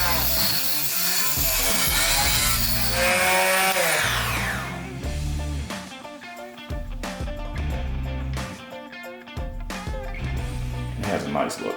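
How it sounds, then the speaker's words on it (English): A small cheap electric saw bought from Amazon whines and cuts, with rising and falling tonal buzzing, then repeated short bursts against a steady low hum. "I got this little nice saw from Amazon."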